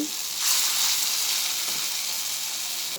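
Chana dal fritters frying in hot oil, a loud, steady close sizzle that swells briefly near the start and continues unbroken.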